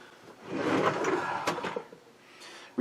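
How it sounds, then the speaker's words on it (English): A wooden drawer slides open close to the listener with a rolling rumble, then a few sharp knocks and clatters as items inside shift, ending in quieter rustling; no one talks. "Reach into the drawer of fun."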